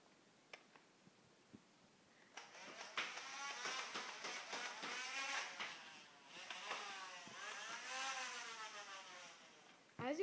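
A motorized toy foam blaster revs up loudly during a firing test, starting after a few faint clicks with a rising whine that holds, dips and climbs again, close and prominent with no talking.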